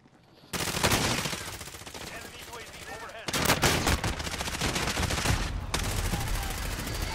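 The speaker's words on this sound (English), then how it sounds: "He's got a sniper." Gunfire in Call of Duty Warzone, including sniper fire, comes as dense, loud bursts of shots that fill most of the stretch after a brief quiet start, with players' voices mixed in.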